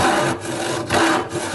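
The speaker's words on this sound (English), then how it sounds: "I'm going to start sawing." A hand saw cutting through wood in rasping push-and-pull strokes, about three rough strokes in quick succession, close and loud with no talking.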